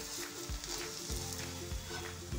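Mixed-dal ghavan roasting in a pan, giving a soft, steady sizzle with faint low thumps of a spatula, close and fairly quiet, no voices.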